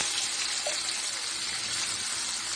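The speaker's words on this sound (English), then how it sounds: "We're going to put a little water in it." Water pours steadily into a pot of oxtails with a continuous hissing rush, close and fairly loud, with no talk.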